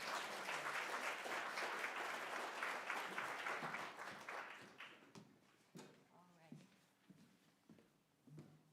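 Audience at a Lunch at the Library author talk applauds to welcome the speaker, with dense, sustained clapping for about five seconds that thins out and gives way to a single voice beginning to speak.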